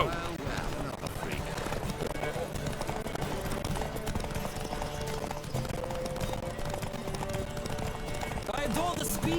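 Galloping horse hooves during a horse race in The Witcher 3, a steady drumming rhythm running under game music and voices throughout.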